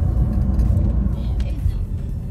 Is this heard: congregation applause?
no